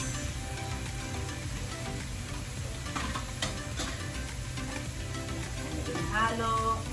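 A tinola sauté seasoned with pepper and fish sauce sizzles in a pan as a continuous, fairly soft frying hiss that stays even throughout, with a faint clink near the end and no speech.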